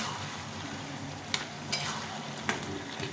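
Spices sizzle in a pan with bottle gourd for lau ghonto with fish head, a steady soft frying hiss broken by three or four sharp scrapes of a spatula stirring, close and without talk.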